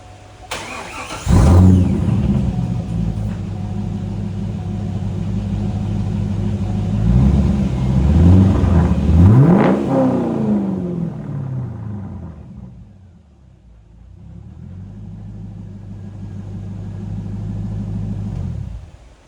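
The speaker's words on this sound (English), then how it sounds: "that's the Billy Boat exhaust" A 2001 C5 Corvette engine fitted with a Billy Boat exhaust starts with a sharp burst, then settles into a steady, loud, rumbling idle. Several revs rise and fall in the middle, and the sound dips before the idle comes back.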